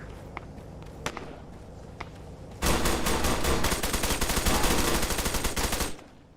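Automatic weapon fire in the Arma 3 video game, opening after a quieter stretch with a few isolated pops, then a loud, rapid sustained burst lasting about three seconds before it cuts off.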